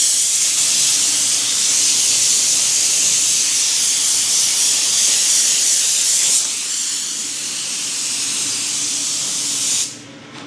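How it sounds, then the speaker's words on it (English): Spray glue hisses steadily from a glue gun during work on custom VW seats, a loud, continuous close hiss that dips briefly midway, then resumes and cuts off near the end. "I'm about to spray glue on something."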